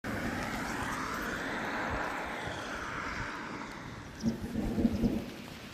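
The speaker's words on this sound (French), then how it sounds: "L'orage est là. J'ai entendu les premières détonations." Low, rolling thunder from a storm closing in over a countryside walking trail on the Way of St James, a long distant rumble with a nearer swell of crackling near the end, under steady rain.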